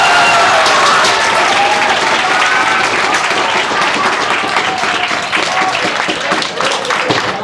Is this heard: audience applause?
yes